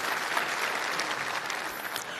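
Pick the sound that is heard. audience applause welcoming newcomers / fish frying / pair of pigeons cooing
audience applause welcoming newcomers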